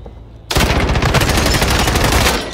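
Rapid automatic gunfire in a first-person shooter video game bursts in loud and close after a quiet moment, a sustained dense rattle of shots with no talking.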